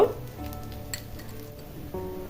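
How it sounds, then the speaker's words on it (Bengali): Oil sizzles softly around appe, semolina balls frying in an appe pan, a faint steady hiss with a small clink partway through and no voices. "এবার আপের ওপরে অল্প অল্প করে তেল দিয়ে দিব"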